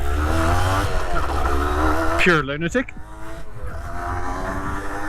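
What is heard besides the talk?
1982 Honda MTX 50 dirt bike engine revving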